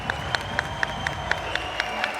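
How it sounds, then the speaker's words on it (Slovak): Audience in a sports hall applauding a departing player at a match, with a steady wash of clapping and crowd noise and sharp rhythmic claps standing out roughly every quarter second. "Vyprevádza hala potleskom."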